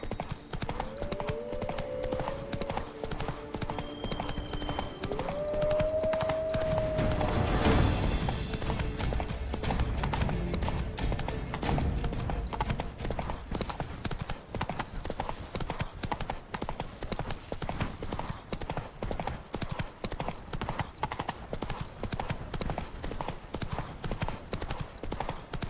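Roach, Geralt's horse in The Witcher 3: Wild Hunt – Blood and Wine, trots with a steady, rhythmic clip-clop of hooves that runs close and even throughout, over game ambience with a brief whinny and a low rumble partway through.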